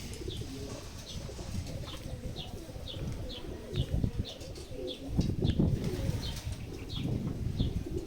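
Racing pigeons at a loft during a derby coo softly while wings flap in bursts, with regular faint chirps ticking along over the low, busy background.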